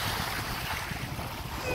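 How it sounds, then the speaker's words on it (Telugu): Atlantic Ocean waves wash onto a beach in Youghal, Ireland, a continuous rushing surf mixed with gusty wind noise across the microphone. "వాటర్ సౌండ్ వినించో అలా కూర్చోవచ్చు అనమాట"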